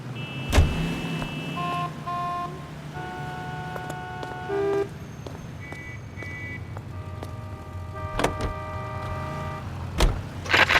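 A car in the video game L.A. Noire rumbles steadily at low pitch under a series of short electronic beeping tones, with a few sharp clicks and knocks.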